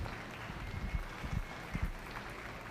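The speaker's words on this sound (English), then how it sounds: "Let's give them a nice round of applause." Faint, thin applause from a small audience at a 4-H/FFA dairy cattle showmanship class for 16-year-old showmen, a soft steady patter with a few louder claps throughout.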